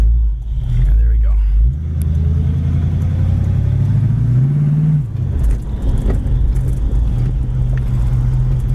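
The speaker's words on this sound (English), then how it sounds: "This Mustang not only sounds mean, it is mean." A red 1967 Ford Mustang convertible with a small-block V8 idles with a loud, deep rumble, then revs up in a strong rising surge before settling back into a steady, throaty idle close by.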